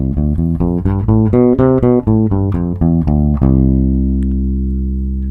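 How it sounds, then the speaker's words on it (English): A bass guitar plays a quick diatonic arpeggio of single notes rising and falling one at a time, then holds a final low note that rings out. "it's the sound of a chord played one note at a time"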